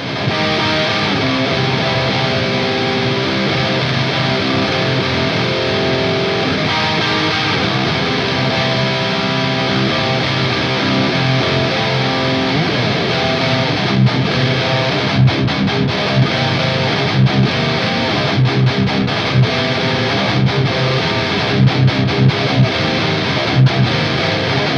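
A high-gain electric guitar plays isolated riffs through a tube amplifier, a dense, saturated wall of distortion sounding continuously and loudly for about twenty-five seconds, with chugging palm-muted stops toward the end and no voices.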